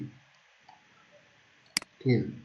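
A computer mouse gives a single sharp, close click while working in Revit Structure 2019. It falls between bits of quiet speech in an otherwise hushed room.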